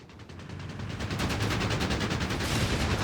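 Machine gun and mortar fire in the Company of Heroes 3 video game, a rapid stream of gunshots building in loudness into a dense, sustained barrage of fire.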